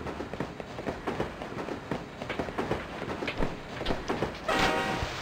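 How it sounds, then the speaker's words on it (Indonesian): Video game train rolling past in a Jackie Chan stunt game, a steady rumbling clatter of wheels throughout with a brief horn-like swell near the end, loud and close with no talk over it. "Kereta."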